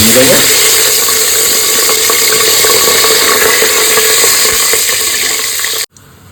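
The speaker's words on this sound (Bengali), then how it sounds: "মশলাগুলো সুন্দর ভাজা হয়েছে" Steady, crackling sizzle of whole spices frying in hot oil inside a pressure cooker, continuous and close, cutting off abruptly near the end.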